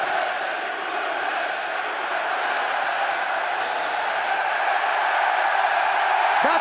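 A packed esports arena crowd at the BLAST.tv Austin Major cheers a clutch play, with a loud, sustained roar that swells slightly toward the end.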